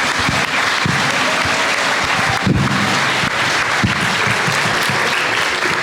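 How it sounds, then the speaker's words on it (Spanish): A large audience at a book presentation in Málaga, Spain claps loudly and continuously, dense applause filling the room for the whole stretch. "Un fuerte aplauso, por favor."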